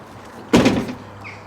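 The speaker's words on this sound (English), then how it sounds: "and we close the door," Door of a Land Rover Defender swung shut, a single close, solid thunk with a short rattle that dies away quickly against a quiet cabin.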